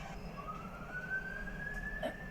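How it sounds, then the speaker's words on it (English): A fire engine siren wails in the distance on a London street, its tone rising slowly and steadily over a low rumble of street traffic. "I'm not sure if it is police siren or, oh, that's fire brigade."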